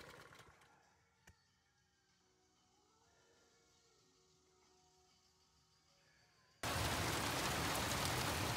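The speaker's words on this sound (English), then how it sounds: "Rain every day." Heavy rain pours down steadily in a hot, humid summer setting beside a temporary carport build, a dense loud hiss that bursts in suddenly near the end after a quiet stretch of faint background.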